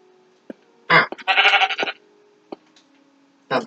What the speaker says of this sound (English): Dumb sheep. I got distracted by you.